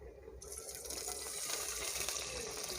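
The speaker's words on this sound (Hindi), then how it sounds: "अब हम इसके अंदर और ये दूध डालेंगे" Milk pours into a pot of hot oil for aloo zarda, a soft, steady liquid gush that starts abruptly and continues quietly.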